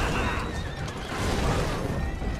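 A horse-drawn carriage in Assassin's Creed Syndicate rumbles along with a loud horse whinny over continuous rolling noise and hoof clatter.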